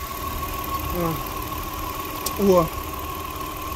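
A car with an engine fault runs steadily at idle, a low continuous hum under a man's brief exclamation, with a short rise in level around the middle.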